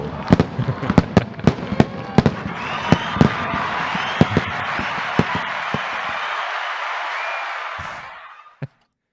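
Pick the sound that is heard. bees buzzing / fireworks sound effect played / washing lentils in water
fireworks sound effect played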